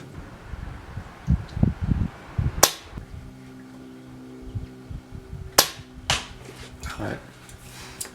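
Two sharp cracks from a Nemesis Arms Vanquish airsoft sniper rifle ring out several seconds apart, with quieter clicks and handling noises between them and brief bits of talk near the start.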